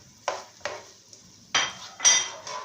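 Chicken, potatoes and vegetables being sautéed in a pot for a chicken and pea dish, heard as a handful of distinct spoon scrapes and clinks against the pot over a faint steady background.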